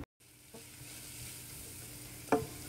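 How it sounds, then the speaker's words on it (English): Cumin stirred into onions frying in a pan for a Palestinian maftoul dinner, a steady close sizzle with soft scraping of the spoon and one sharper clack near the end, no talk. "We're just gonna mix it together and let the onions soften up and get a little bit of color to them."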